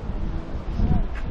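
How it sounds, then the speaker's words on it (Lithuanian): Strong wind blowing outdoors in a city buffets the microphone with a steady, low, rumbling roar for a brief moment, close and fairly loud, with no other clear sounds. "Oras šiltas, bet vėjas didelis."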